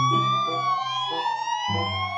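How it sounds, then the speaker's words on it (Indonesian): An ambulance siren wails in a clear, loud electronic tone that sweeps and holds over about two seconds, close by and alone without talk. "ini mobil ambulan."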